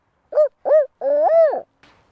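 A person imitates a barred owl, voicing three rising-and-falling hooting calls, the last one longest and wavering, close and clear against silence with a faint trailing breath.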